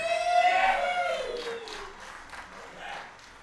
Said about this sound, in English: I guess I did real good with all that clapping that's going on.